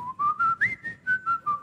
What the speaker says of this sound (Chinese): 如果吹口哨的时候你要竖过来。